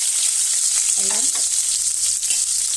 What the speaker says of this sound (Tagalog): umpisa natin magprito ng ating talong.